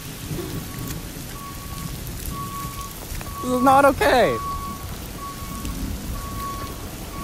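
Heavy rain pours steadily on a flooded street, a constant hiss and splash throughout, with a person speaking briefly over it and a beeping tone now and then.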